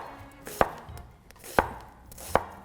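Knife slicing an onion into thin rings on a cutting board, three crisp, distinct chops spaced about a second apart, close and clear with no talk.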